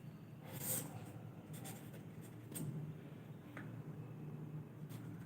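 Pen or marker writing out a math factorisation question, a soft, close scratching that comes in short irregular strokes with small pauses and taps, fairly faint against a quiet room.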